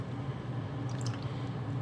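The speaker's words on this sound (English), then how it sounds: "I'm going to add the coconut cream now to the rest of it." Coconut cream poured into a fry pan of green chicken curry, a soft continuous wet squishing and dripping with a low steady simmer beneath, close and moderately quiet.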